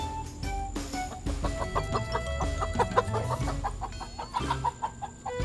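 Chickens clucking on a farm, repeated short clucks and squawks over a busy, cluttered background of other farmyard noise, fairly close and steady throughout.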